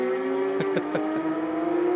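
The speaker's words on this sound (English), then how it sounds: "It's a joy listening to these cars." Race cars, including a Porsche GT3 RS, run on a circuit in a steady mid-distance engine drone, with a few brief pulses as cars pass, all under a continuous wash of track noise.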